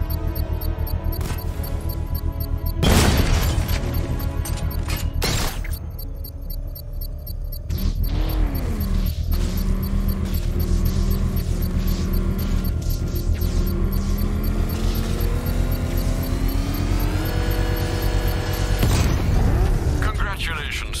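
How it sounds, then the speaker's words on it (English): Controlled bomb explosion in the video game Batman Arkham Knight, sharp booming bursts followed by mechanical whirring and rising engine-like tones, with a game voice speaking over parts. "I can use the power winch to trigger a controlled explosion."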